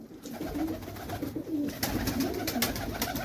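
Pigeons at a village rooftop loft coo repeatedly in soft, throaty rolling calls, several birds overlapping close by over a rustling background.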